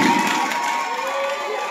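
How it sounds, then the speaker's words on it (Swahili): A crowd of schoolchildren claps and cheers for a student at school, a short burst of loud, close applause and shouting. "Tumpigie makofi."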